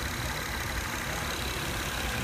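A 2012 Acura TL sits with its engine running at idle, a soft, steady hum heard fairly faintly and alone, with no talking.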